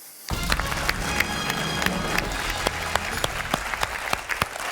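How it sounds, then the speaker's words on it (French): Studio audience applause on a French television quiz show, a dense burst of clapping that starts abruptly and continues steadily at close range with no talk over it. "J'applaudis Jean-Philippe"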